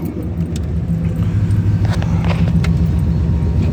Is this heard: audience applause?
no